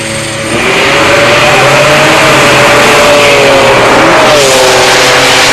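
Nailhead-powered Buick drag race cars accelerating in the finals at a Buick GS Nationals drag meet, a loud sustained engine roar rising in pitch as they pull away, close and continuous.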